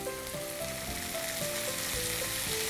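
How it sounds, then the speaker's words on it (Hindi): Vegetables being stir-fried on a high flame with black pepper, salt, tomato ketchup, vinegar and soy sauce, a steady, dense sizzle and hiss of frying throughout, with no voices. "हमें इन्हें हाई फ्लेम पर ही पकाना है ताकि सब्जियों में थोड़ा सा क्रंच रहे।"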